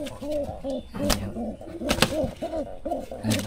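Pigeons cooing repeatedly in soft, rounded calls close by, with a few sharp clicks and rustles between them.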